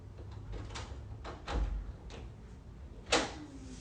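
A door knob is turned and a door is handled, producing a series of soft clicks, rattles and knocks close by, ending with a sharper latch clack.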